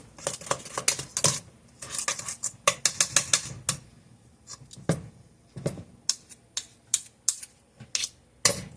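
A spoon clinks and taps against a bowl while dark molasses is mixed into cookie batter for oatmeal creme pies, giving irregular clusters of sharp, close clatters separated by short pauses.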